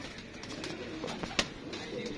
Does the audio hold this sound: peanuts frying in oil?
no